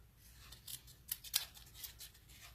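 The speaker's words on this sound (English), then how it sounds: "I'm just literally just cutting right around the letters" Scissors snip paper letters cut out for a handmade birthday card, a quiet run of crisp, close cuts that grow louder toward the middle, with no talk over them.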